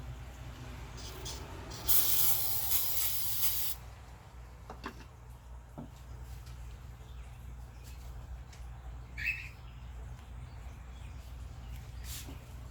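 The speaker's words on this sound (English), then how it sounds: "I'm just going to spray it on here." A short burst of aerosol cleaner hisses close by for about two seconds during spark plug work on a Lexus IS, followed by quiet handling and faint background hum.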